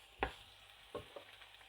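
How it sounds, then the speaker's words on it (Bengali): Vegetables with white onion fry lightly in a pan for spaghetti with egg, giving a quiet, steady sizzle broken by a few soft stirring scrapes. "এখন সবগুলা ভেজিটেবল আমি হালকা ভেজে নিব।"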